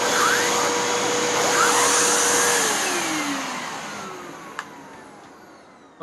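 A vacuum cleaner's hand turbo tool runs with a loud, steady whooshing whine that drops in pitch and softens partway through, ending with a sharp click.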